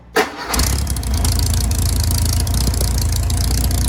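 An old engine, unused for years, cranks and catches after a brief start, then settles into a steady, loud running rumble that continues to the end.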